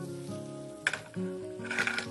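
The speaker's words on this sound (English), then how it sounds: "Now that our butter is hot, add some of this garlic and this onion in here." Garlic and onion drop into hot butter in a pan, with a soft sizzle rising into crackling bursts of frying and stirring, fairly quiet and close, with no talking.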